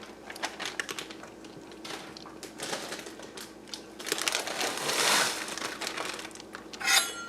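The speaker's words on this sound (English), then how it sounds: "I'm going to add 2 1-pound packages of cut corn." Frozen cut corn from two one-pound packages tumbles into a chowder pot with a close rattling, crinkling patter of kernels and plastic wrap that builds in uneven bursts and swells toward the end.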